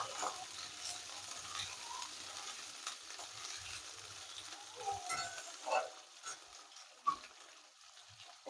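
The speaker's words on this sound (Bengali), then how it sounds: "এই তেলেই আমি এই কুঁদরিগুলো ভেজে নিচ্ছি।" Ivy gourd (kundru) fries in oil with a soft continuous sizzle and occasional stirring scrapes and spatters, close but fairly quiet.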